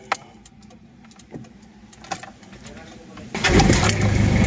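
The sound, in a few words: Toyota Revo diesel engine starting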